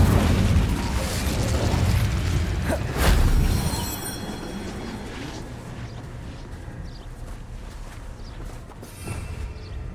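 The Incendio fire spell from the Hogwarts Legacy video game lets out a loud, roaring whoosh that swells to a heavy burst and then trails away into a softer, fading rumble.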